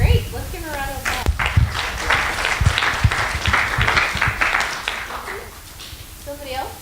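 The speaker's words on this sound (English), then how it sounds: "let's give her a round of applause" Audience at a talk breaks into sustained applause lasting several seconds, with voices speaking over the start and end of the clapping.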